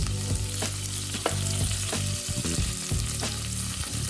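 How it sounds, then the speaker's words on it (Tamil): Onions frying in a pan with curry leaves and coriander, a close, continuous sizzle broken by scraping stirs every half second or so. "வெங்காயம் பதங்கி கொண்டிருக்கு"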